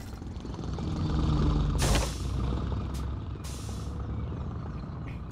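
A deep idling bus engine rumbles in the video game Thank Goodness You're Here!, broken by a loud hiss of air brakes and two shorter bursts of air release.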